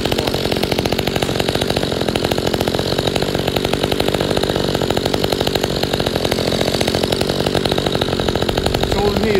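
A rototiller engine runs after starting, a loud, close, rapid rattling small-engine drone that holds steady and even for the whole stretch.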